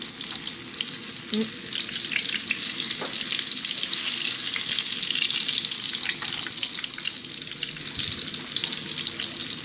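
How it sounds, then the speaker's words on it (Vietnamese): Squash pieces frying steadily in hot oil in a pan, a dense continuous sizzle with a few faint clinks of utensils, close and even throughout, no talk. "các bạn cứ chiên cho nó xém xém vỏ như thế này cho mình là được ha"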